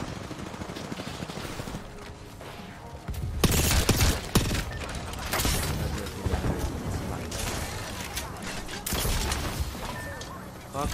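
Video game gunfire with tap-strafing on a controller: bursts of rapid automatic shots and heavy blasts, loud and near, crowding the whole stretch with louder volleys in the middle and near the end, while someone talks over it.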